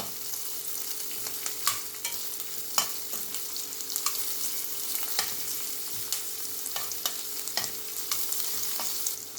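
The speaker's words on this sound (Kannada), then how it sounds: "ಅದು ಕೂಡ ಎಣ್ಣೆಯಲ್ಲಿ ಫ್ರೈ ಆಗಬೇಕು." Kasuri methi frying in oil for a chole gravy, a steady soft sizzle with frequent light taps and scrapes of a stirring spoon, close and moderately quiet, under a faint steady hum.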